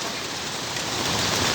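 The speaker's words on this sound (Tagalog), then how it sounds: "Lakas ng ulan." Heavy rain pours steadily beside a street food vendor's stall at dusk, a loud, continuous hiss of falling water with no voices.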